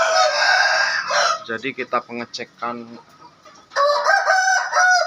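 Loud, close rooster crows open and close the stretch, with chickens clucking around them in a coop of Bangkok fighting chickens, many sick with colds and snoring breath, on a rainy morning in Bengkulu; someone talks in between.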